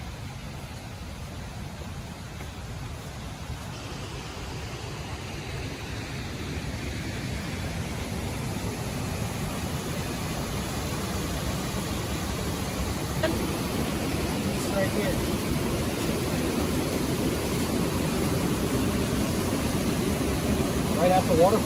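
A small waterfall in a woodland creek gives a steady, broad rushing wash that swells slightly louder over time, with a person speaking briefly over it.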